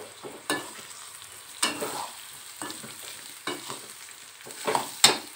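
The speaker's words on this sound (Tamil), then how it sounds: "இன்னும் 2 நிமிஷம் வதக்கி விட்டுடலாம்" Grated beetroot is sautéed in a pan for chutney, with soft sizzling under several scraping stirs of a spatula at irregular intervals, close and fairly quiet.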